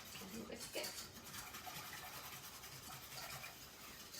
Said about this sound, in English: So what you do is with a whisk.